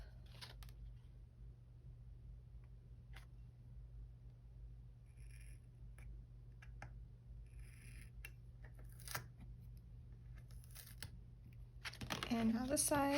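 Scissors snip washi tape trimmed along the edges of a Christmas-themed planner spread: faint, scattered cuts under a steady low hum, with someone talking over the quiet work.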